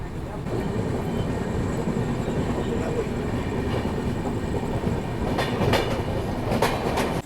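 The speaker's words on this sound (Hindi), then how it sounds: "हम लोग निकल रहे हैं मानिकपुर जंक्शन रेलवे स्टेशन से।" A passenger train pulls out of Manikpur Junction railway station with a steady, loud rumble of wheels on track and some clacking and squeaking toward the end.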